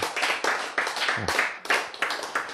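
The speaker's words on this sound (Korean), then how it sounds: "박수." Audience clapping during a lecture, in short rhythmic bursts of hand claps repeated about eight times, fairly close and moderately loud.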